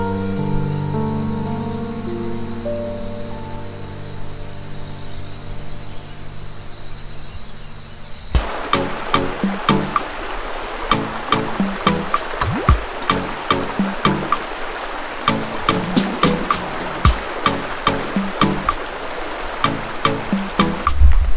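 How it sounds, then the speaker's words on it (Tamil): River water rushes over stones at Kallaru, a stone river; a steady broadband flow fills the first eight seconds, then loud, close, irregular knocks and clicks ride over the running water. "ஸோ திடீர்னு பார்த்தீங்கன்னா தண்ணி ஓட இருக்குது."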